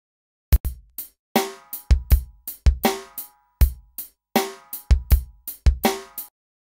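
A rock drum beat built on sixteenth notes, with snare and hi-hat struck together over kick, played alone in a steady, punchy, close pattern of sharp hits.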